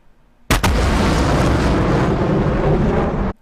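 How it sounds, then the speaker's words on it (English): A missile strikes a Su-57 fighter jet in a combat flight video game, a sudden loud blast followed by about three seconds of dense, roaring rumble that cuts off abruptly. "Oh, it's going to hit me. It's going to hit me. I can see the missile."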